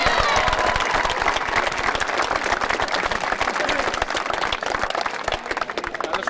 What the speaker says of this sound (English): So a big round of applause to yourselves.